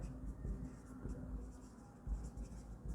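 A teacher writes an accounting entry on a classroom board, giving faint, soft scratching strokes over a low room hum.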